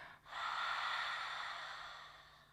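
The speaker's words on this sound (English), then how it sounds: "We take 3 breaths in through the nose and exhale, open up your mouth." A single long, steady breath during an energizing yoga flow, a soft airy exhale rising quickly and fading slowly, close and alone without talk.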